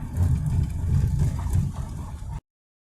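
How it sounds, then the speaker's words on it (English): Honda Jazz hatchback with a defective handbrake caliper turning around, its engine running as a steady low rumble close by for about two and a half seconds, alone with no talk. "Alright, I'm going to turn the car around."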